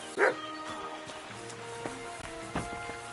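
Dog barks in Kingdom Come: Deliverance 2, a loud close yip near the start followed by a few softer barks and whimpers over quiet game ambience.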